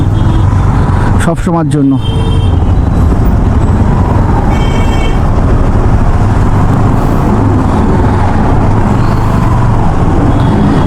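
Road traffic beside Chuchuri railway station in a congested stretch, a continuous roar of cars and buses with a brief horn-like burst early on, while someone talks over the din throughout.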